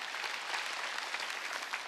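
A congregation claps during a Wednesday church service, a faint, fairly distant, even patter of many hands that continues steadily throughout.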